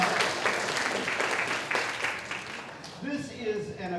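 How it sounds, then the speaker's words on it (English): At a Chinatown-International District public safety forum in Seattle, audience applause rings out for a couple of seconds and then fades as a voice starts talking over the dying claps. "Give a round of applause."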